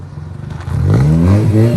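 A 2nd-generation Mazda RX-7 FC S4 rotary engine revs through its exhaust, climbing quickly from a rough idle into a loud, buzzy, sustained rev close by.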